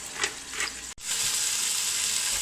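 A beef pot roast sears in an Instant Pot, giving off a steady, bright sizzle that continues evenly after a brief cut.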